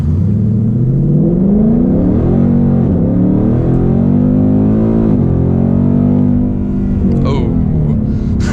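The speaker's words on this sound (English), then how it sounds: "Sport Plus mode, keeping the revs all the way up there." A 2022 Ford Mustang GT engine revs hard while accelerating in Sport Plus mode, its pitch climbing steadily, then holding high before a quick downshift and another rise. The sound is loud, close and continuous, with no talk over it.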